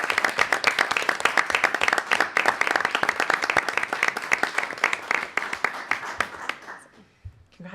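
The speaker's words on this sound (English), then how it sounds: "let's have a real round of applause" Sustained applause from a school committee meeting audience, dense rapid clapping filling the room for several seconds before tapering off to a few scattered claps and quiet.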